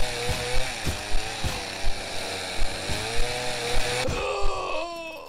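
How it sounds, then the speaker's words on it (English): A chainsaw-wielding maniac in the video game Office Horror Story revs his chainsaw, a loud, close, buzzing engine with rhythmic surging pulses roughly every half second, cutting off abruptly near the end. "there's a chainsaw maniac right there!"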